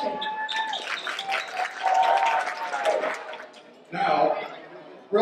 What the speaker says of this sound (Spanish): I would like to give a big round of applause to all the ladies who worked and put the food together